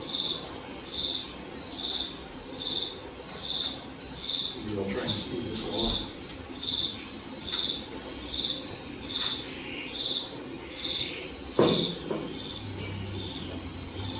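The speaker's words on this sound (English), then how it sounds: "You can hear the crickets and some of the frogs croaking." Steady, rhythmic cricket chirping pulses on through a quiet night background, with a brief low voice speaking partway through.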